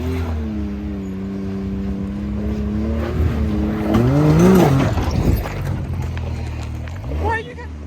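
A Can-Am Maverick X3 side-by-side pulls away on Lake Como Road near Blanca Peak, Colorado. The engine drones, then revs up in a loud, rising surge before easing off, with a person talking over it.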